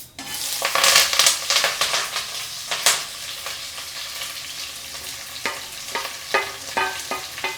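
Sliced onions with cumin sizzling in hot oil in a pan for a capsicum curry, a steady close crackle broken by a run of sharp scraping stirs in the middle and toward the end, with no talking.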